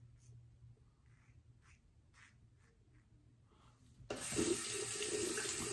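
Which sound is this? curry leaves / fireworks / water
water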